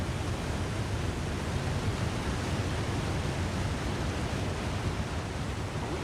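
Constant heavy roar of a waterfall in The Long Dark's wilderness, close and loud, a thick wash of rushing water that holds even throughout with nothing else on top.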